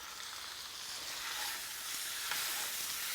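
Ground turkey sautéing with bell peppers and onions in a pan, a steady, even sizzle that holds at moderate level without pause, with no talking.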